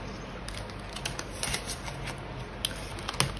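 Paper banknotes rustle and crinkle in short bursts as they are slipped into a budget envelope, close and fairly quiet with no talking.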